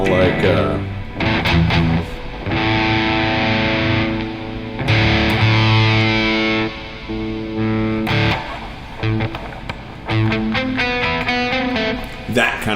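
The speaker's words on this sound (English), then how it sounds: "Now here, I'm actually going to put a light distortion on the guitar." Electric guitar played through a light distortion effect, sustained melodic notes and chords in phrases broken by short gaps, fairly loud and heard alone.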